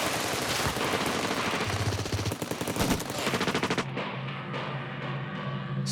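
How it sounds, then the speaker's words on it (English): Bolivian soldiers opening fire in a battle: loud, dense bursts of gunfire with rapid machine-gun rattles, continuous for several seconds before a muffled tail of shots. "As they reach midstream, the Bolivian soldiers open fire."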